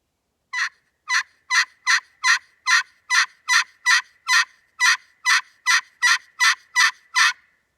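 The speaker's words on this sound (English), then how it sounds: "It's shortening up the front end of the yelp, and the rest of the sound is being projected right into your hand" A turkey yelp played on a friction pot call: a run of about sixteen sharp, evenly spaced rasping notes, loud and close, with nothing else in the background.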